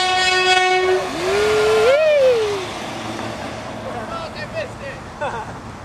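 A train horn blasts nearby, its pitch bending as it sounds, then fades into the rumble of a passing train.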